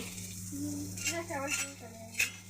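Onions going into a hot saucepan and stirred with a spatula, a faint sizzle under a steady low hum with a few light scraping and clinking strokes near the end.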